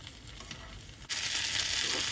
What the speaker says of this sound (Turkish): Kalan patlıcanları da kızartalım.